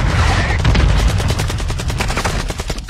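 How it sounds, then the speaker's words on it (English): Rapid automatic gunfire in a video game, a dense loud stream of shots with booming impacts, continuous and close throughout. "Taking effective fire!"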